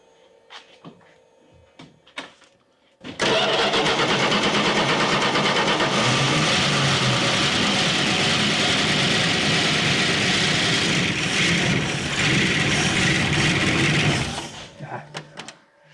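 A 1970 Dodge Charger that sat for 20 years cranks and fires after some clanks and shuffling, then holds a loud, steady rough idle for about eleven seconds before shutting off to quiet handling noises.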